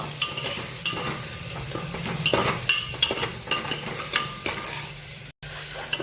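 A spoon stirs tomato with turmeric and hing in a hot pan. Close, steady sizzling frying runs under repeated scraping and clinking strokes, with a brief dropout near the end.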